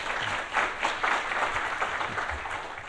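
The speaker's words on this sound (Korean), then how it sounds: "큰 박수로 김영환 과장님을 맞이해 주시면 고맙겠습니다" An audience at a Korean forestry outlook seminar applauds to welcome a speaker, a soft, even wash of many hands clapping that carries on steadily, somewhat distant and moderate in level, with no talking.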